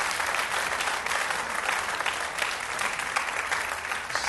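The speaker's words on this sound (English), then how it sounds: "can we have one more round of applause for everybody that competed today?" An audience at a student research competition gives a round of applause for the participants, dense continuous clapping from a large crowd, loud and even for a few seconds.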